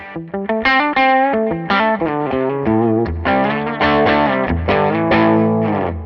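Distorted electric guitar playing a run of chords and single notes, crunchy and sustained, with a wash of reverb and echoing repeats trailing each phrase, a British-style tone from a guitar modelling platform.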